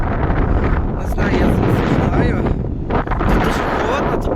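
Strong gusting wind buffets the microphone in a steady, loud rumble, with occasional voices faintly audible beneath it.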